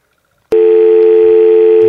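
A telephone dial tone starts abruptly after a moment of silence and then holds steady and loud, with faint low thumps near the end.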